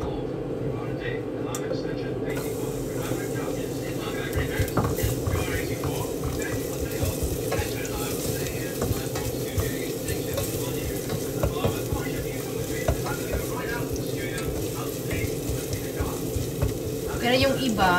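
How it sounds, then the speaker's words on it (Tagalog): Lechon sautéing in hot cooking oil, a steady close sizzle with stirring scrapes running throughout, while a voice talks over it. "Gigisa natin ang ating lechon."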